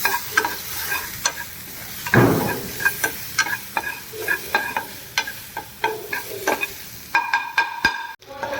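Tomato sautéing with browned onion in a pan for spicy Indian-Chinese food, a steady close sizzle broken by repeated spatula scrapes and clinks against the pan, with no talking.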